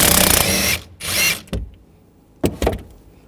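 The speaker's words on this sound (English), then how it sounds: "Using a 16mm socket, take this nut out." A power tool on a 16mm socket zips the rear shock mount nut off a 2007-2013 BMW 328i, starting with a long loud burst and then a few short, fainter spurts and clicks.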